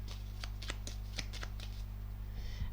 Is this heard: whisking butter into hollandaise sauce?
no